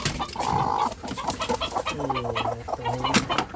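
Farm hens cluck in short, nasal bursts, nearby and fairly loud, with several birds overlapping in a busy coop.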